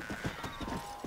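Horse hooves clip-clopping in the video game Red Dead Redemption, a quick run of soft thuds over a steady background hum, brief and close.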